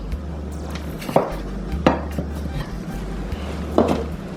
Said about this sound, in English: Okay, so now I'm gonna just chop up all of these herbs.